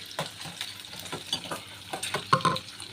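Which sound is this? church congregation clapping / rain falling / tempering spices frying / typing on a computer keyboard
tempering spices frying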